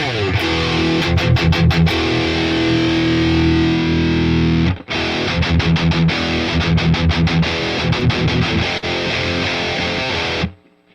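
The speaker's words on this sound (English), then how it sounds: "let me show this on a distortion channel. It's a lot easier to hear. So here's the recorded line out" Electric guitar played through an amp's distortion channel and recorded from the line out with cabinet emulation: loud, saturated chords and riffs with choppy palm-muted bursts, a short break near the middle, then more heavy playing until it cuts off.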